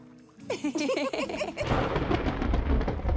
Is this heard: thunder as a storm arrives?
yes